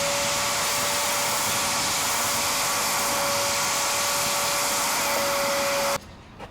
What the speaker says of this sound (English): I got most of the stuff vacuumed out